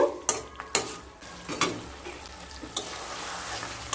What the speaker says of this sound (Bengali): মিশিয়ে নিয়ে আবারও লো স্টিমে 1 মিনিট কষিয়ে নেব।